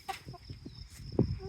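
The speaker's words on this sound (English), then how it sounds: "So these are the last 9 chickens we have" Chickens on a Spanish homestead give short, scattered clucks close by, with one louder burst near the end over a quiet outdoor background.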